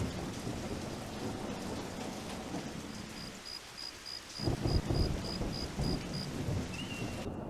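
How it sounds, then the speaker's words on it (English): Rain and thunder in the Wildlife Park 3 video game, a steady hiss of falling rain with a deep rumble of thunder building partway through. A short repeating chirping tone sounds above it. "Sounds like it's raining."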